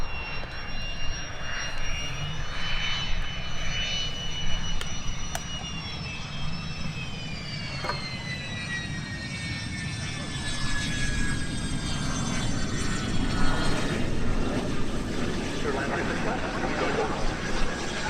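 A Cessna propeller plane's engine drones during the mass arrival at Oshkosh. A steady, moderately loud hum rises and falls as the plane passes, with radio chatter over it.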